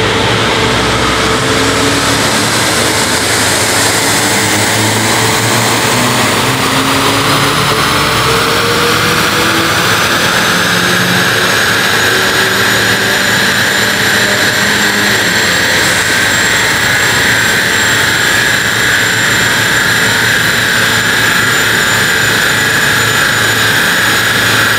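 An Opel Insignia GSI fitted with a downpipe and modified intake roars with loud, continuous engine and exhaust noise whose pitch climbs steadily under hard acceleration.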